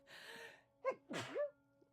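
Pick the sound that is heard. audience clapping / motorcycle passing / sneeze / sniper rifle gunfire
sneeze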